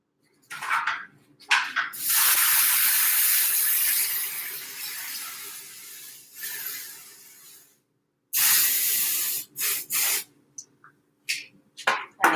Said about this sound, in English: I'm gonna just do a quick spray on the pan